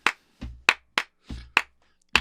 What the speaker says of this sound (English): He had us stomp with the foot and then clap it